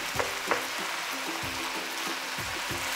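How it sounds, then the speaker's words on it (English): An egg fries in a pan for pad thai, a steady close sizzle with a few light scraping stirs over it. "would add egg. Make sure that the white egg is cooked."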